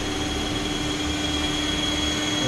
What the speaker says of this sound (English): That's in the air right now. The helicopter is facing us.